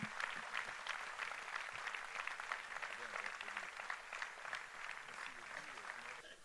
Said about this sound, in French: Je vous remercie de l'applaudir très chaleureusement en gage de notre reconnaissance et de notre amitié.